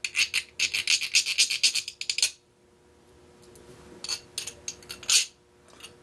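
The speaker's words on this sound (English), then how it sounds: "Now I'm simply going to go ahead and take my file. Just go ahead and give a couple swipes. Remove some of the burrs." A hand file rasps across the burrs of a homemade metal camera mount for a Picatinny rail. Rapid, close scraping strokes come in a quick run, then after a quiet pause a few sparser swipes follow.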